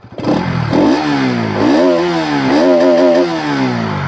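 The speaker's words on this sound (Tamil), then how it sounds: "சவுண்டு கேளுங்க, BS7 சவுண்டு." Bajaj Pulsar NS 200 BS7 motorcycle exhaust revving loudly up and down in repeated rising and falling sweeps, close by and alone with no talk.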